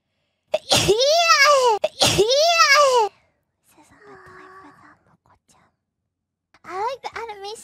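Sneezes from a female streamer, two loud bursts close together, then a quieter breathy sound and a third sneeze at the end, with silence between.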